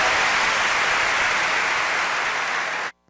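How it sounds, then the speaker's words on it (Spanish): A church congregation gives a loud, dense burst of applause that fills the space evenly and then cuts off abruptly near the end. "dele un buen aplauso al Señor"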